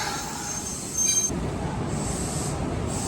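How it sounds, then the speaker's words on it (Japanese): A two-car train on the Shigi line in Osaka rolls into the station, a steady low rumble with a brief high wheel squeal and some rail clatter partway through. "折り返し市議山口行きの電車が入ってきました。"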